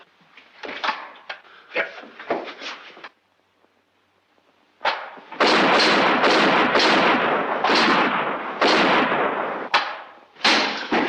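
Gunshots ring out in a radio drama, a burst of sharp loud cracks and booms that keeps going for several seconds, following a few quieter thumps and a short near-silent gap.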